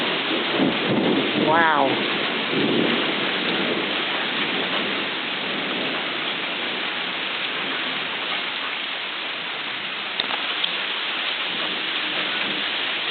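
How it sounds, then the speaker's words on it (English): Heavy rain pours steadily while thunder rumbles on Dawson Canyon Road, Corona, California, and a voice briefly exclaims near the start over the dense, hissing downpour. "Here comes the rain again."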